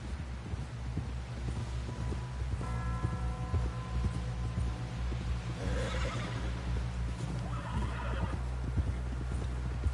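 In Red Dead Redemption 2, hooves clip-clop steadily over a low rumbling background while a horse neighs loudly twice, a shrill whinny rising and falling.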